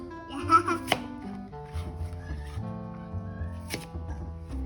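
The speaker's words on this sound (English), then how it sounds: "You helping Mom cut potatoes?" A toddler cuts pretend potatoes with a toy knife, making a few sharp chopping clacks, with soft voices in the background.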